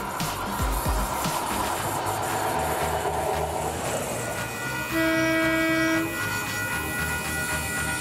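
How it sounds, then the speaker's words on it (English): A small self-propelled rail motor car runs along a local line with a steady rumble and clatter, and a horn sounds for about a second partway through. "this is a rail motor car."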